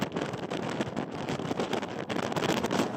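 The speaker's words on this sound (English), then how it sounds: "I'll play the audio for this next clip too so you can just really see how windy it was" Steady roaring wind at Kinsale buffets a microphone, a dense rushing noise that holds loud and constant throughout with brief gusty dips.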